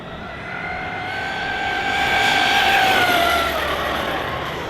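An ARRMA Kraton EXB RC car fitted with a Max6 1650kv motor and 19T pinion makes a speed run, its motor whine rising in pitch as it accelerates out, peaking and then easing off, fairly steady and unbroken with no talk.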